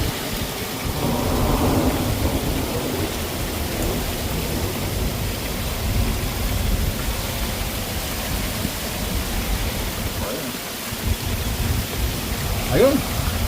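Nighttime thunderstorm during a tornado warning, with steady heavy rain hissing throughout and low rumbles of thunder rolling underneath, loud and enveloping, plus a few faint scattered sounds near the end.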